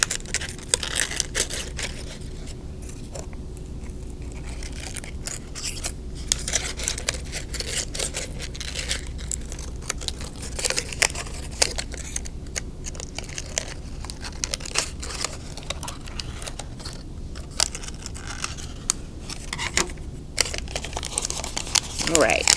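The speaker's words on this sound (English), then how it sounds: "you're going to take your scissors and you're just going to cut a dip right at the top of it" Scissors snip and rustle through paper for a craft project, with soft, irregular cuts and crinkling running close by under ongoing speech.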